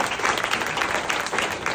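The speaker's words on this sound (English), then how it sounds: "Let's give them all a round of applause, shall we?" Sustained applause from a seated audience at a charity special needs fashion show, with dense, steady clapping close by and no clear speech over it.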